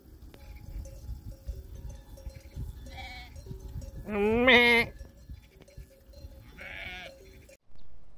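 A flock of sheep bleats a few times, one loud wavering cry nearby and fainter ones around it, over a low rustling outdoor background.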